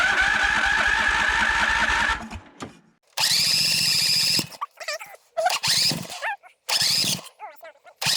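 A tractor engine at an off-grid cabin build site cranks and tries to start in loud, rough bursts separated by short pauses, with voices speaking between attempts.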